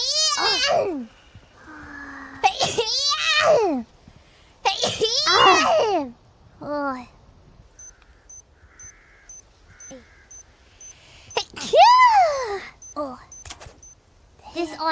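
Repeated sneezes from a female streamer, several sharp bursts spaced across the stretch, close and loud, with playful vocal sounds and talk between them.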